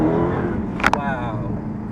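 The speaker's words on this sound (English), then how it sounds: "I love hearing that tyre screech" A 707bhp Hellcat supercharged car roars steadily up close. A brief, sharp tyre-screech burst cuts in near the middle, over a constant engine and supercharger whine.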